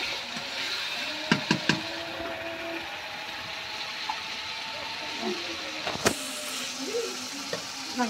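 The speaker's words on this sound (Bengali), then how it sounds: "লাউটা আমি এর ভিতরে এখন দিয়ে দেবো।" Chopped bottle gourd dropped into oil with fried spice paste, giving a steady close sizzle with sharp clanks of a utensil against the pan and brief talk at times.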